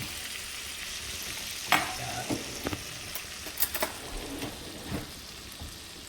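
A sauce bubbles and reduces in a pan, giving a steady soft sizzle broken by scattered pops and a few spattering bursts, heard close with no talking.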